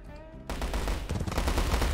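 Light machine gunners open up in a real-time strategy war game set in India, a quiet tonal lull giving way to sustained, rapid overlapping bursts of loud gunfire with a rattling rhythm.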